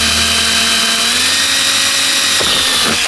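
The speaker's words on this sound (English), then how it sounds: "drill a pilot hole in the center" A power drill bores a pilot hole into the centre of a junction box for a security light, whining steadily at a high pitch throughout, with a brief knock or two near the end.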